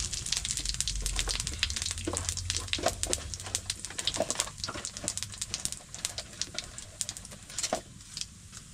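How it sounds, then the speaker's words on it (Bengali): Cumin seeds hit hot mustard oil in a pan, giving a dense, crackling sizzle with rapid pops and spits that runs steadily throughout, close and fairly quiet. "এই দিয়ে দিলাম জিরে ফোড়ন"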